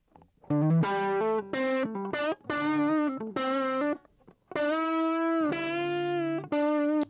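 An electric guitar recorded as a clean direct-input signal plays a melodic phrase of sustained, bending notes with a dry, unamplified tone, no other instruments or voices.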